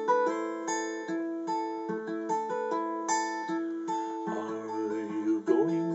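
An acoustic guitar plays the Scarborough Fair accompaniment, with picked chord patterns and hammer-on notes keeping a steady gentle rhythm. It is close and moderately quiet, heard alone with no voice.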